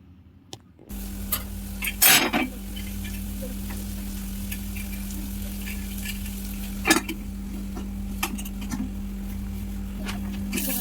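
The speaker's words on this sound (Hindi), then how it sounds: "टमाटो के भी टिके फ्राए करमा" Tomatoes frying in a pan over a steady sizzle, with a utensil stirring and scraping against the metal in a few distinct bursts.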